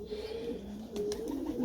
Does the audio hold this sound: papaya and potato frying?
no